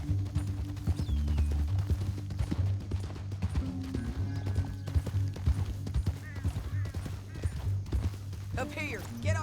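In the video game Red Dead Redemption 2, galloping horse hooves clop steadily beneath a swelling orchestral score, with occasional whinnies and clattering effects mixed in.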